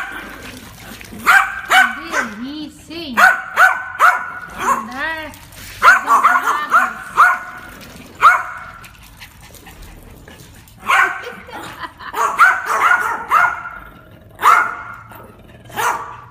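A dog barks repeatedly in loud, close bursts mixed with whiny yips and whimpers, while a person speaks briefly between barks.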